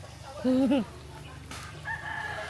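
A rooster-like bird call rings out once near water, a short loud crowing note with clucking quality, followed by fainter chirps over steady outdoor background noise.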